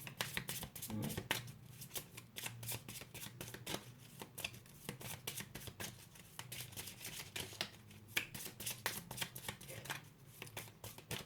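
Tarot cards shuffled for a reading, a quiet, continuous riffling and flicking with soft repeated card slaps, close but faint, with no talking.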